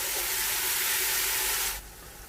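Ginger garlic paste and onion sizzle in a pot of hot oil for beef kunnah gosht, a steady close hiss that drops off abruptly near the end, no voices present.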